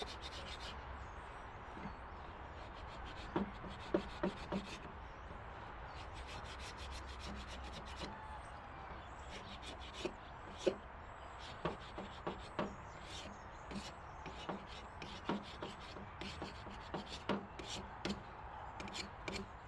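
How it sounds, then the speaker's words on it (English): Carbide tip scraper working a surface on a Case 1835C skid steer, sharp scraping strokes and clicks in irregular bursts over a low background hum, close but faint. "Carbide tip super scraper is what it's called. It just gets after it."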